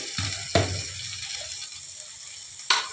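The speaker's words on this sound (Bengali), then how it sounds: "এই যে বন্ধুরা ঢাকাটা খুলে দিচ্ছি আমি" A lid comes off a pot of simmering Bengali chicken ghugni with a few sharp metallic clinks, near and fairly loud, over a faint low bubbling and sizzle.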